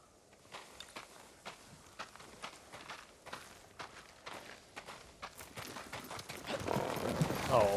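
Horse hooves in Ghost of Tsushima clip-clop in a steady walking rhythm, fairly close, with background sound building louder toward the end.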